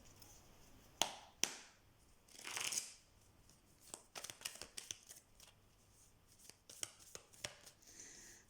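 Tarot cards being shuffled and handled, giving a series of sharp riffling snaps and soft rustling bursts spread over several seconds, fairly quiet and close, with no talking.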